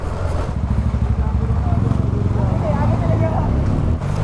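KTM 390 Adventure motorcycle engine running steadily at close range in Jaipur city, a continuous low throb with people talking over it.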